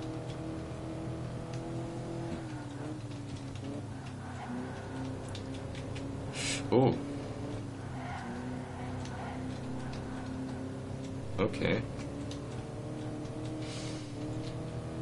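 Engine drone of a 2003 Ford Thunderbird racing on the Autobahn in Ford Racing 3: a steady, layered engine hum with shifting pitch, two brief bursts standing out, and a voice speaking briefly.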